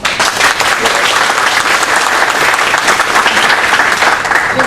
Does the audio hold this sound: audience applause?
yes